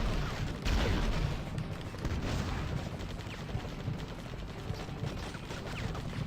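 Gunfire rattles through a level of the Iron Man PSP game, a fairly quiet, dense barrage of rapid shots and booms that runs steadily throughout.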